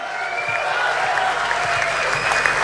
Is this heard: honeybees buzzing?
no